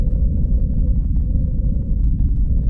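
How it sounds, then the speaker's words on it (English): Deep-space radio signal received by NASA, a steady, dense low rumbling drone with a faint tonal hum above it, continuous and unchanging throughout with no voices. "This is a radio signal that was received by NASA in July 2020."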